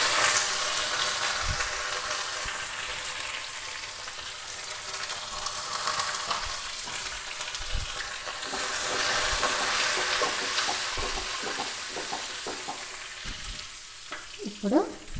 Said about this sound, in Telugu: ఇప్పుడు పోపు దినుసులు వేస్తున్నా.